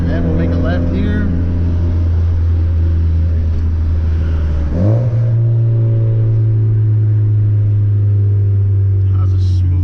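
Big turbo Volkswagen GTI driving at night, a loud steady engine drone with a smooth downshift midway that lifts the revs, heard from inside the car.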